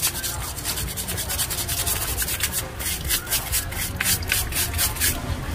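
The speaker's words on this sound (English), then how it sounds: "you get a little handy dandy scrubbing brush and you just scrub" A stiff scrubbing brush scours mud off the shells of live crabs in rapid back-and-forth strokes, a steady rough rasping that continues nonstop at close range.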